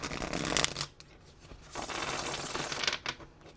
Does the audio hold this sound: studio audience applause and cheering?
no